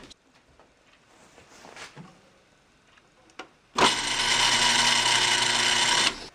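Drill press in a woodworking shop, set to its minimum speed, starts abruptly after a few quiet shuffles and thumps, then runs as a steady, loud, close motor whine with a strong hum until cut off.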